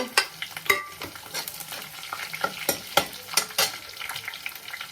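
Jakhiya seeds and garlic crackle in extra oil for a Himalayan hill wild-vegetable dish, a close, steady sizzle punctuated by sharp pops and spoon clinks, with no talking.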